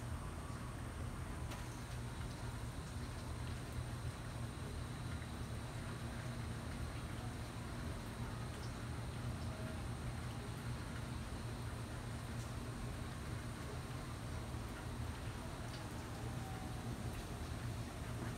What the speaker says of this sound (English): Lightning outside, is raining,